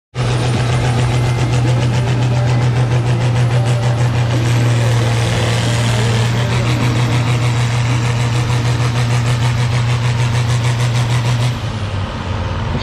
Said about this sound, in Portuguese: É o trator, né? Aqui é o trator.